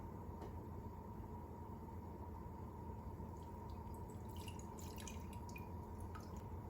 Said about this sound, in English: I'm just going to carefully lift my bowl out and strain into another vessel with a piece of screen that I'm using